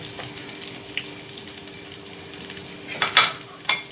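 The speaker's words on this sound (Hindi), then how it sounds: "अब मैं इसके अंदर ये बारीक कटी हुई 2 मीडियम प्याज फ्राई" Two medium onions, finely chopped, fry in oil in a pan for stuffed okra, giving a soft, steady sizzle with a few light clinks of a utensil near the end and no talking.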